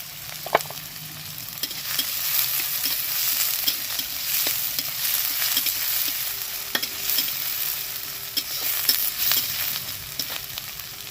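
Chopped onion and green chili frying in oil in a pan, a continuous close sizzle punctuated by sharp scrapes and taps of a spatula stirring, no speech.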